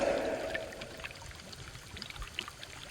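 River water flows and trickles on a Polynesian island in the Marquesas, a soft continuous watery rush with small splashes, fairly faint and without speech.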